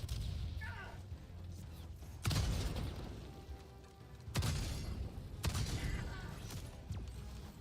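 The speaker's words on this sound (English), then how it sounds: "Throwing grenade!" Grenade explosions in a video game, several sharp booming blasts spaced a second or two apart, fairly close, each decaying into a rumbling tail, with no talking.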